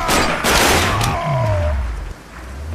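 Rapid automatic AK rifle gunfire in the Sniper Ghost Warrior video game, a loud burst of shots with a booming low tail, close and dense, fading toward the end.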